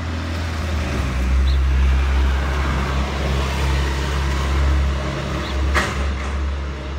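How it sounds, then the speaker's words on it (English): A bus passes in road traffic over a steady low rumble of engines and tyres that runs throughout, with a brief bright burst near the end and no voices. "Bus."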